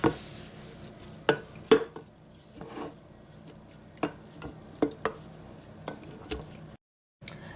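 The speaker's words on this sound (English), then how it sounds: "Now I'm using a wooden dowel, but if you want you can use a spoon that's sterilized, and you're just going to press down on the meat like this" A wooden dowel presses down on garlic pork meat in a container, giving a series of about a dozen irregular soft squelching thumps up close, with a brief silent gap near the end and no talking.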